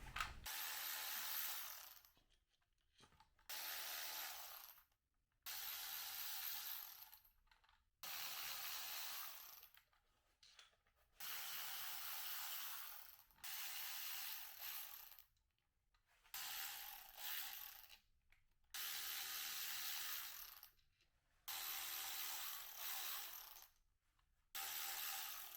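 A ratchet works bolts out of a Kawasaki Bayou ATV engine case in repeated bursts of rapid clicking, each lasting a few seconds and separated by short pauses, close-up and fairly quiet.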